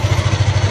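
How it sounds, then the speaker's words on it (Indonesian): Yamaha Aerox scooter engine running with an electrical fault, a loud close idle with a fast, steady pulsing throb and no talk. "Ini motor sudah menyala."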